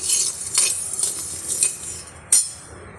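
Roasted ragi tipped out of the pan onto a plate, a dry rattling pour with light metallic clinks and one sharp knock near the end, heard close with no voices.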